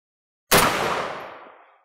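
A single .30 Carbine rifle shot fired outdoors, one sharp loud crack after silence, followed by a rumbling echo that fades away over about a second.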